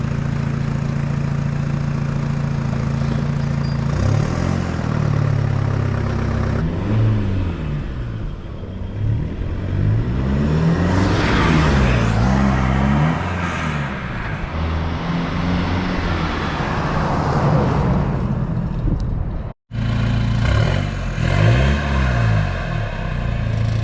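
A car fitted with a new turbo-back exhaust revs repeatedly, the loud engine note rising and falling in throaty surges over a steady idle rumble, with a brief cut near the end before the revving resumes.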